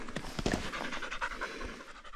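A hunting dog pants rapidly and steadily at close range, short quick breaths repeating throughout after a sika deer hunt outdoors.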